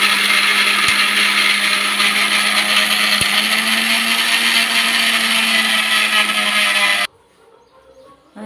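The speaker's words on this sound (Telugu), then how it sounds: "ఈ మిక్సీ జార్ని మనం గ్రైండ్ చేసుకోవాలి" Mixer grinder jar whirring loudly and steadily as it grinds peanut chutney with garlic and green chillies, a continuous motor drone with no talk that cuts off abruptly near the end.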